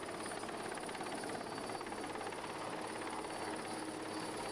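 A rescue helicopter hovers over the sea during a winch rescue, its rotor and engine roaring steadily and loudly without a break, no voices heard.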